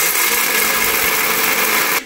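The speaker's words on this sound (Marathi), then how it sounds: "ते मिक्सरमध्ये आता बारीक करून घ्यायचे आहे।" A mixer grinder whirs at full speed grinding roasted peanuts, a loud, continuous high-pitched motor whine that cuts off abruptly at the end.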